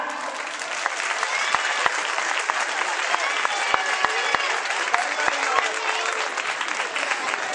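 An applause meter round at a 2012 Lakuntza playback contest: a crowd claps steadily and densely, a continuous wash of hand claps with occasional sharper slaps standing out, with a few voices underneath.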